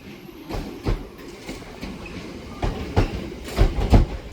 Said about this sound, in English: it's actually a terminating northern service guys from Crewe